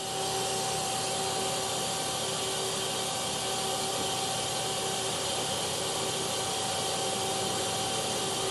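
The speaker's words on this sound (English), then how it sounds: "We're going to run the spindle first." A 2008 Mazak Quick Turn Nexus 100-II M CNC lathe with a 6-inch chuck runs its spindle at a steady 1,000 RPM, giving a constant mechanical hum with a high whine and broadband hiss that does not change throughout.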